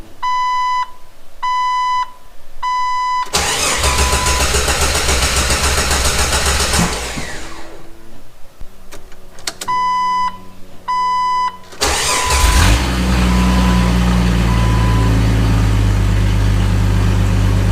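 A Jeep Wrangler TJ engine cranks and catches, then settles into a steady idle around 1,000 RPM, with repeated electronic beeping chimes before and between the starts.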